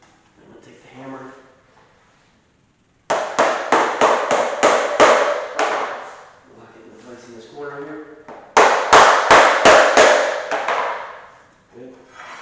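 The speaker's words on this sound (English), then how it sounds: "I'm going to take the hammer." Two quick runs of sharp hammer taps, about six to eight knocks each, firmly striking luxury vinyl plank flooring into place, with a person talking before and between them.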